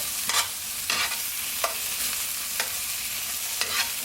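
Mushrooms frying in oil in a pan for a vegan omelette, a steady broadband sizzle with several soft scraping stirs at regular intervals, close and moderately loud, no voices.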